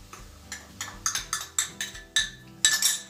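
Cake batter with vinegar-slaked baking soda being stirred in a bowl, a spoon clinking against the sides in a quick, regular rhythm of about a dozen light taps.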